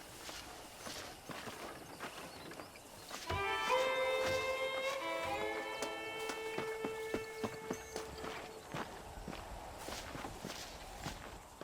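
In Red Dead Redemption, a horse's hooves clip-clop in a steady walking rhythm, fairly quiet and close, while a bright sustained musical chime rings over the middle section.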